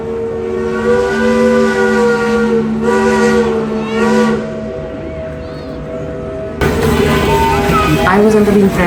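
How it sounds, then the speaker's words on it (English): Antique steam engines at an annual steam engine parade let out a loud steam whistle in a steady, sustained blast. The whistle stops and is followed by a rough, hissing roar, with voices talking nearby. "these are steam engines that were used in the earlier days of American settlements"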